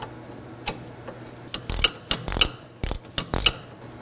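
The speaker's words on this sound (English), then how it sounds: "I'm going to repeat the same process using 18mm wrench and my 9mm socket." Ratchet with a 9mm socket loosening the sway bar link nut on a 2018-2024 Chevrolet Equinox, giving sharp close clicking bursts in an uneven rhythm, a few single clicks then quick runs of ratcheting strokes.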